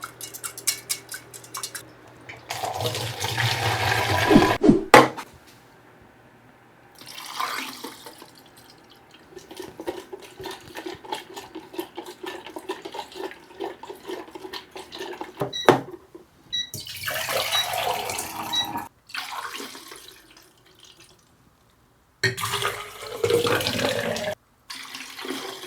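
Liquid is poured into a storage bottle in bursts, splashing and trickling close by with pauses, drips and short quiet gaps between pours.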